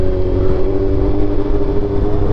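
A Honda CB400 motorcycle engine revving up close on a Manila street near a bridge, a loud, steady low rumble with rough throaty pulses and slight surges in pitch.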